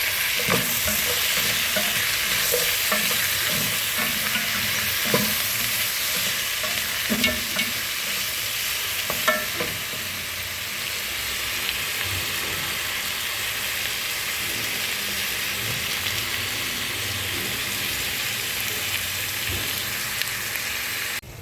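Diced tomatoes and beef sizzling in a stew pot, a steady close crackling hiss with intermittent scraping stirs, continuous and alone.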